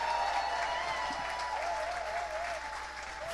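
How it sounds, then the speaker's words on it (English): A crowd at a leadership gala banquet in Washington DC applauds a newly introduced chair, producing a continuous, dense roar of clapping that stays loud throughout, with faint tonal sound threaded beneath it. "I want you now give a big round of applause for our next chair, Honorable Marie Estime Irvin."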